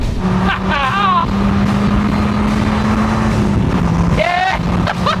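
A Dodge Viper and a Chevy Corvette ZR-1 engines roar through a roll race, revving and climbing in pitch as they shift gears. Excited voices talk over the loud, continuous engine noise.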